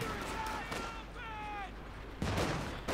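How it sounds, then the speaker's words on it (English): Battle in the World War II strategy game Company of Heroes 2, with a muffled spread of distant gunfire and explosions and a sharper burst near the end, heard beneath someone speaking. "Bit of shooting going on there."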